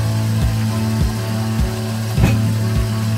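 An electric mixer with a whisk attachment runs on low speed, beating eggs with a yeast mixture. It makes a steady motor hum with a soft rhythmic knocking from the whisk, loud and continuous throughout.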